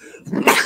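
A single sneeze from a person bursts out sharply and up close, rising quickly from a breathy intake to a loud explosive release lasting under a second, with no talk over it.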